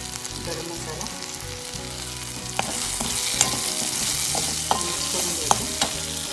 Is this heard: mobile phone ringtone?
no